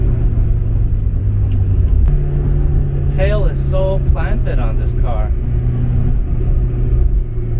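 A stock 1982 Porsche 944 engine drones and rumbles steadily as the car drives a loop, its low note close and constant while someone talks over it.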